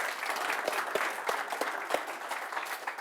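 An audience at a Warhammer 40k grand tournament gives a short round of applause, a soft, fairly distant patter of steady clapping lasting the whole few seconds.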